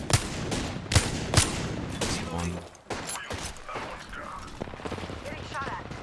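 Gunfire in a video game, a run of loud, close shots and rapid bursts with mechanical clatter, mixed over ongoing talk from players.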